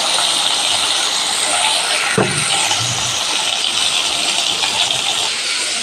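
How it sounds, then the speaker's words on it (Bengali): Sliced pointed gourd frying slowly in a pan, a steady loud hiss of oil sizzling throughout, with a brief knock or scrape about two seconds in. "পটলগুলো আমার আস্তে আস্তে ভাজা হোক"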